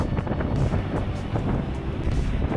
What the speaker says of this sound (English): the weather had changed for the worse. It was rainy, windy